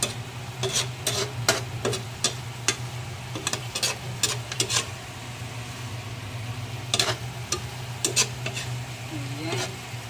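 Kangkong being stirred into spareribs adobo in a pan: repeated clattering scrapes and knocks of a utensil against the pan over a steady low sizzle, close and moderately loud, with no talking.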